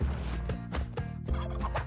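A turkey gobbles in the video game Spelunky 2, a loud, rapid, warbling gobble repeated in several quick bursts over a couple of seconds, heard alone without speech.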